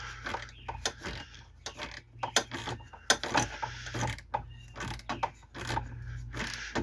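A ratchet driving a socket on a roughly 4-inch extension snugs a nut from underneath during a dash handle delete install on an Astro/Safari van. It gives repeated close, fairly quiet clicking bursts, with no talking.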